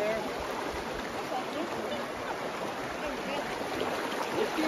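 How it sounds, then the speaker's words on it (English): Rushing water from river rapids and a waterfall at Mystery Falls in Zion National Park, a steady broadband roar that holds evenly throughout with no pauses. "it's a waterfall up there, and nothing, and then another waterfall. That's where there's some rapids back here."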